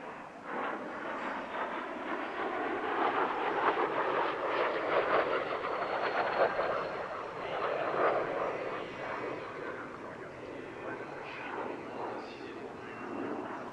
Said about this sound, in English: This version, a Silver Star Mark III variant, was fitted with a Rolls-Royce Nene engine rather than the standard Allison J33